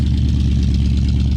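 A 1966 Ford Galaxie with a fuel-injected engine swap idles steadily up close, a loud, deep, even rumble with a quick regular pulse and no voices.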